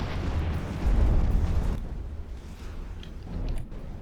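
Missile explosions hitting an aircraft in a fighter combat video game, a loud rumbling blast that decays into lower crackling booms with a smaller burst near the end.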